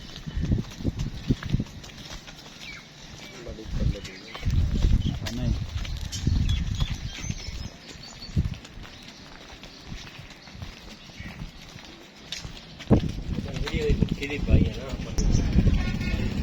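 Hooves clop and shuffle on hard ground in uneven bursts as a horse is moved about and loaded, with people talking throughout.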